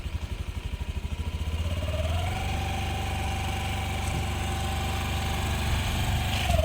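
A scooter engine cranks with a rapid pulsing, catches and settles into a steady, close idle that continues to the end, with no talking over it.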